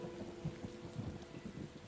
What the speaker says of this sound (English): Man, this thunder's pretty intense, huh?